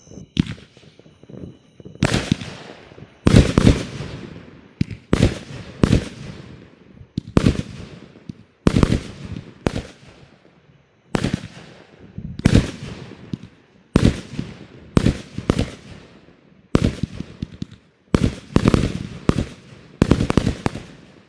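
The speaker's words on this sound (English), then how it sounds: "All right, we got another 25 salutes, Raccoon." A backyard firework salute cake fires about two dozen sharp, loud report bangs at a steady rhythm. Each bang leaves a brief crackle and echo before the next.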